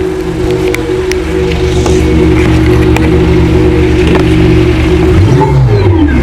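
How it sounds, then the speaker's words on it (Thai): UFO sound effect played by a THOR sound system fitted to an electric car while accelerating, a loud steady synthetic hum with layered tones that bends and sweeps toward the end. "เดี๋ยวเราจัดเป็นตัว UFO เลย นี่ครับ UFO เดี๋ยวเดี๋ยวเหยียบเหยียบคันเร่งให้หน่อย"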